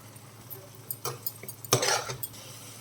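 A utensil scrapes and clinks against a pan as tomato egg curry is stirred, giving a few sharp metallic knocks and a short scraping burst over a low steady hum, with no talking.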